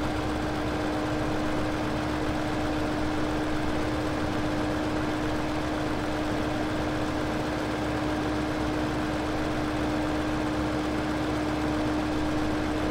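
A steady low engine drone from an underpowered tractor labouring with a slurry spreader in the Farming Simulator 15 video game, continuous and unchanging throughout with no talk.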